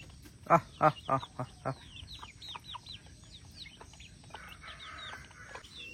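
Village chickens clucking softly while drinking water, a few sharp close calls at the start followed by quieter scattered chirps and clucks against a low outdoor background.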